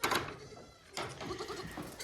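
Baby goats bleating close by, two short wavering cries separated by a brief pause, with light background noise.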